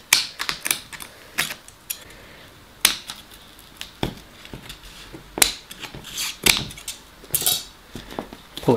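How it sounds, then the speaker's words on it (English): Scissors cut a small V into luxury suede fabric used to line a vehicle interior, giving a close, irregular series of crisp snips and clicks with short pauses between them. "we're just going to go behind it with the scissors, cut a little V, slightly bigger."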